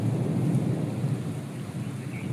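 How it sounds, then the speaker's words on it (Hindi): Heavy late-afternoon rain pours steadily as a dense, close wash of noise with no voices, a constant hiss from start to finish. "फिर से दोबारा बहुत तेज़ बारिश शुरू हो गया 4:30 बजे शाम को"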